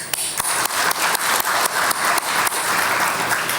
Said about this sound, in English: let's give a big round of applause to this great people